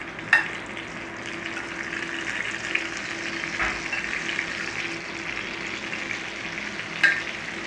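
Sausages sizzle in a pan for a Toad-in-the-Hole pie: a steady, close frying hiss throughout, with a few brief clicks and taps of utensils.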